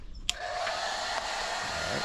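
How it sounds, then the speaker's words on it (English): A hair dryer switches on with a click and runs with a steady, loud whooshing blow of air that holds constant throughout. "grabbing yourself a hairdryer. Stole this one from the bathroom."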